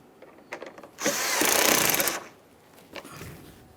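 A power tool briefly runs to snug fasteners on a 2015-2019 Subaru Outback front inner fender liner, a short buzzing whir of about a second between faint clicks and handling noises, then a softer burst.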